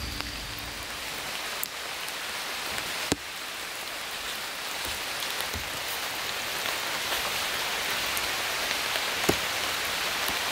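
Rain falls steadily on a wet mountain hiking trail on Gunung Klabat, a dense, even hiss with occasional sharper drops close by.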